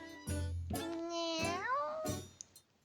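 A cat in a children's story about a snail lets out a few drawn-out meows with rising and falling pitch, close and clear, with no other sounds around them.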